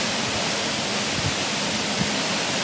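The Ozone waterfall roars as a steady, loud, broadband rush of falling water, close and continuous with no voices.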